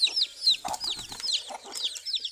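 Native village chickens on a small Bangladeshi farm cluck and call repeatedly in the morning sun, a steady, close chorus of overlapping clucks with a few louder squawks and no talking.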